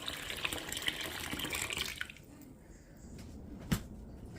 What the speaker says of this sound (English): I had to change the bowl so that we'll have enough room for the water. In goes the water.